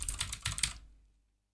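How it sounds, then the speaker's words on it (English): A quick burst of about half a dozen keystrokes on a computer keyboard entering a search term, close and crisp, then falling silent after under a second. "we're going to type in maintenance"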